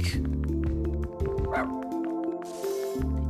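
Quick repeated barks and yips from a dog in the video game Unsighted ring out over a steady tonal game soundtrack.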